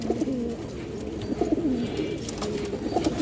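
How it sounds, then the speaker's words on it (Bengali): Two male pigeons coo repeatedly at close range, soft throaty rolling calls that overlap in a steady run over quiet background noise. "দুইটা কবুতর ডাক ভালো আছে খুবই অ্যাক্টিভ আছে"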